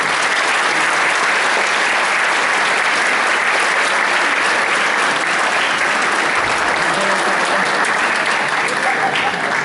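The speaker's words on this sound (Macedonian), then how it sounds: "Ќе ве замолам уште еден аплауз" Audience at a folk ensemble's New Year concert in Kratovo claps in sustained, dense applause, loud and steady throughout with no pauses.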